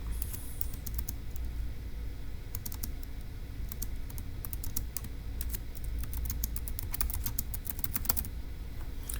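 Someone types notes on a computer keyboard while working a logic puzzle. Quiet clusters of keystrokes come in irregular bursts against a faint steady room hum.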